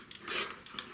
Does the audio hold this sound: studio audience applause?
no